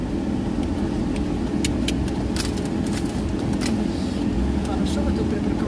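A car drives along a road in a steady interior cabin rumble of engine and tire noise, continuous and close, with a few faint clicks and rattles over it and a voice talking.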